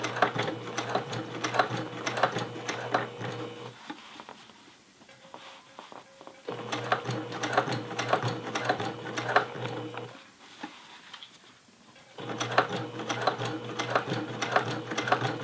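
A sewing machine stitches a flat-felled crotch seam on denim jeans, running in three long steady bursts of rapid rhythmic clatter with short quieter pauses between them.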